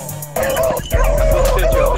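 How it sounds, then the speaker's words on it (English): Beagle hunting dogs on a rabbit hunt bark and yip in quick, excited bursts close by, over a steady outdoor hum. "Got my dogs with me."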